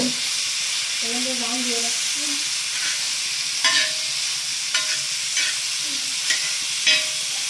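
Chicken sukka frying in a pan, with a soft continuous sizzle and repeated scraping, clattering strokes of a spatula as the pieces are turned, spaced every second or so, while a voice speaks briefly at the start.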